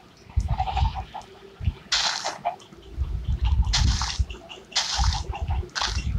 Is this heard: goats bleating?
yes